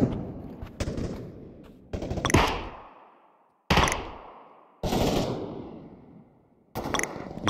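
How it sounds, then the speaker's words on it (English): Gunfire from AI bots fighting in the Pavlov VR shooter: several sharp bursts of automatic shots, each followed by a long reverberant tail, becoming more distant and diffuse across the clip, with no talking. "You'll start to notice that the gunshots change to reflect their distance from the listener."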